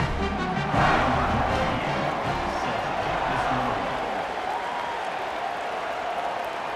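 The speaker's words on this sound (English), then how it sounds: "these fans, they get something to cheer about with that first offensive possession" A night-game stadium crowd in a college football video game, Florida State against Louisville, roars in a broad sustained wash of cheering and applause that swells early and then slowly settles, with commentary voices faintly underneath.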